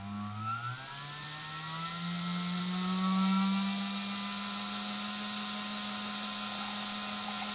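A Castle 2028 1700Kv brushless motor on a bench test spins up, its whine sweeping upward in pitch and then holding a steady high tone, loud and continuous with no talk.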